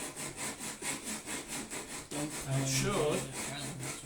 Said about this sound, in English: you just hold it on and sand it like that.